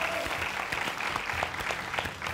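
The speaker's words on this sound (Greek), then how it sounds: "Ένα χειροκρότημα για την εγκληματολόγο μας." A studio audience on the Greek Wheel of Fortune game show applauds with steady, dense clapping that stays loud and continuous from start to finish.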